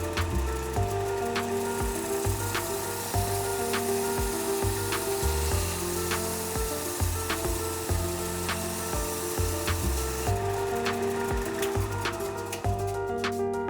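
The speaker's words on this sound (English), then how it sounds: "I then took it over to my belt sander to clean up the edges and give them a bevel." A belt sander grinds continuously against the edges of a hand-sawn wooden piece, smoothing and bevelling them with a steady abrasive rasp and small shifts in pressure, close and loud throughout.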